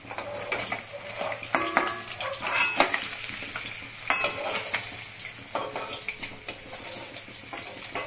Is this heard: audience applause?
no